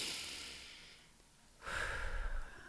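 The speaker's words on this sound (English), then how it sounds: "and it's taking deep breaths" A single slow, deep breath close to the microphone: a soft, airy exhale fades to near silence, then a fuller, louder inhale follows, with no speech.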